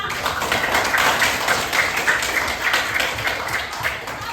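Fifth-grade pupils in an elementary school classroom applaud, a busy spread of overlapping claps with some room noise, close and fairly loud for several seconds.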